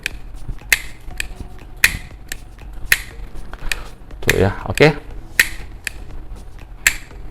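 Spring-loaded bail on a full-metal multipurpose fishing reel snapping shut repeatedly, sharp metallic clicks spaced irregularly, with a brief mechanical rattle midway and a voice speaking briefly.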